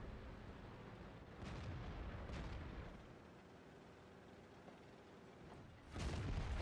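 Tank cannon fire in World of Tanks, with a few heavy booming shots that rise over a constant low rumble of battle.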